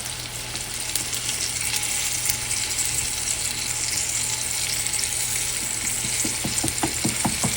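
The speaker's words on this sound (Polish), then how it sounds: "Tak smażą jak słychać" Loud, steady sizzling of pork ribs frying in a pan, with a few light clicks and scrapes near the end.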